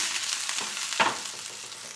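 Crushed shallots and crushed garlic sizzle in hot tempering oil, a soft steady frying hiss with a brief louder crackle about halfway through, fairly quiet and without talk.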